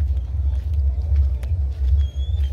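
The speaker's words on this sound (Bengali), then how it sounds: "এই গাড়িটা কিন্তু আসছে" A vehicle approaching at a festival setup on a rainy day, a heavy low engine rumble that holds steady and loud for a few seconds, with faint higher noises above it.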